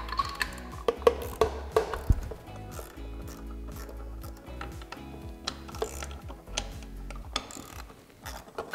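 Ratchet with a 10 mm socket backing out anode bolts on a Mercury 40-60 hp FourStroke outboard, close rhythmic pawl clicks in repeated strokes, quiet and crisp with brief pauses between runs.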